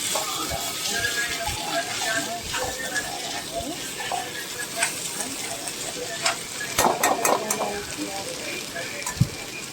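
Okra (bhindi) frying in hot oil with kokum and salt, a steady sizzle and crackle with occasional stirring clatter, close and moderately loud, building to a few sharper scraping bursts near the end.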